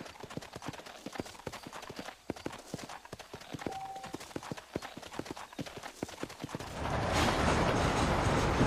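Horse hooves clip-clop in a steady trotting rhythm in the Red Dead Redemption western video game, clear and close, before a broader rushing noise takes over near the end.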